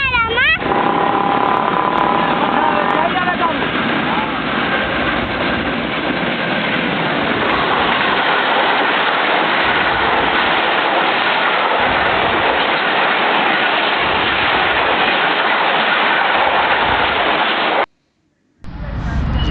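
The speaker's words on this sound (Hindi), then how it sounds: "ये 6144 28 डाउन शालीमार एक्सप्रेस के साथ।" 6144 28 Down Shalimar Express passing through a station, a loud sustained rush of train noise with a horn blast at the start and rhythmic wheel thumps along the cars, ending abruptly.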